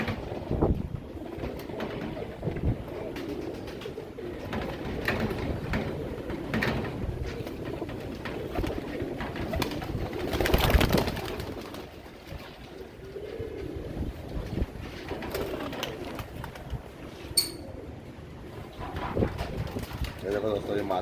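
Royal Teddy pigeons coo in low, intermittent murmurs at close range, mixed with voices talking and some wind or handling noise throughout.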